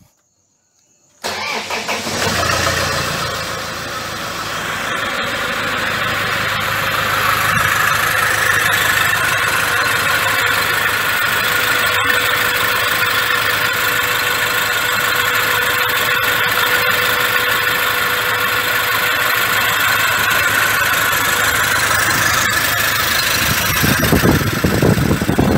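A 2006 Toyota Hilux diesel engine cranks and catches after a moment of silence, then settles into a steady, loud idle that runs on without a break. It had been seized and was just repaired with injector compensation codes.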